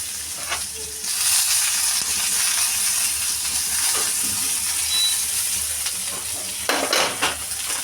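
Pirandai (adamant creeper) with garlic, onion and coconut being sautéed in a pan, a steady crackling sizzle with scraping stirs and a few utensil clinks, close and continuous with no talking.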